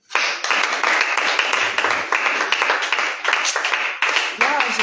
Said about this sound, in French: On bat les mains, on bat les mains